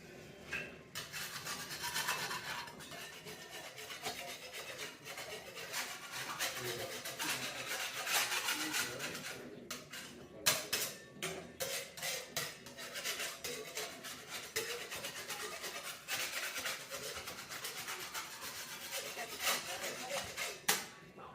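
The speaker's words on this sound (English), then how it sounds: "I've just given that a pretty good scrape" A surface is scraped by hand, giving continuous, close rasping strokes of varying intensity with irregular bursts and brief pauses over about twenty seconds.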